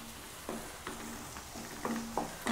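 Onions fry in hot oil with a steady soft sizzle, broken by a few brief stirring scrapes at irregular intervals, close up with no talking.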